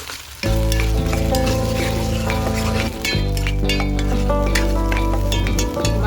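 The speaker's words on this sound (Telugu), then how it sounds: "ఈ మసాలా కూడా మనం బాగా పచ్చివాసన పోయేటట్టు బాగా వేయించుకోవాలి" Masala paste sizzles loudly in hot oil in a pan while a head-meat curry is cooked, a dense continuous frying hiss with occasional stirring clinks and scrapes, steady and close throughout.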